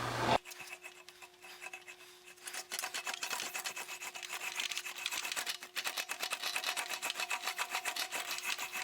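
The ends of a metal motorcycle fender are worked smooth by hand with repeated rasping, rubbing strokes in a rough back-and-forth rhythm, close and moderately loud.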